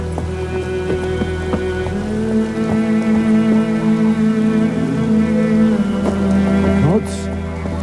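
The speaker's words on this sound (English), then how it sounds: "Let it rain." Rainfall in The Witcher 3 video game: steady, moderately loud patter over an ongoing low tonal hum that runs throughout, with no voices.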